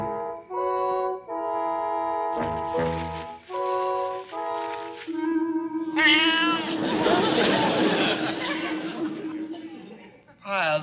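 A cat meows, rendered as an exaggerated, tonal mewing that sounds like a person imitating it, followed by a burst of chuckling and laughter, all up close in a sitcom scene.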